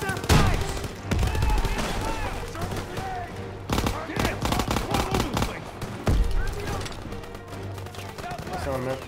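Machine gun fire in a Call of Duty WW2 battle, with repeated loud bursts and heavy gunshots through a dense, noisy firefight, with shouted voices mixed in.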